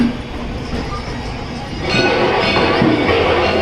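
A train rumbles and clatters over the rails nearby as it enters Ajmer Junction station, the noise growing louder and fuller partway through as it rolls in.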